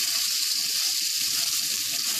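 Raw mango chutney cooking in a pan, a continuous bright sizzle and hiss with soft low stirring rumbles beneath, close and steady, with no talk.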